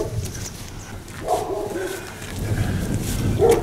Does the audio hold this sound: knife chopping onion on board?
no